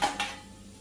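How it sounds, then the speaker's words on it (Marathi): Two quick metallic clanks of kitchen pots and utensils being banged down in a home kitchen, sharp and close, followed by a quiet fading ring. "अशा आपटा आपटी करू नको भांड्यांवर."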